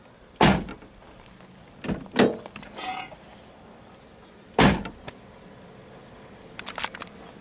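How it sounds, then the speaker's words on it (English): A 1998-2002 Honda Accord driver's door is swung open and shut, giving a few sharp latch clicks and solid thumps spaced seconds apart, with quieter mechanical rattles between them in a quiet space. "when you do get the door on correctly, it should open and close like this"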